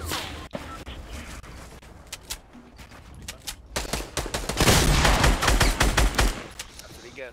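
Rapid gunfire in the video game Fortnite during a squads match, bursts of shots crackling through the middle and swelling into dense, loud automatic fire toward the end, with no one speaking.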